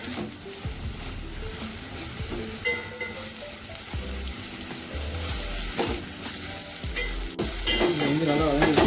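Tomatoes sauté with ginger in a pan for an egg curry, producing a lively, continuous sizzle close by. Repeated stirring scrapes and knocks of the spoon sit over it, with no voices.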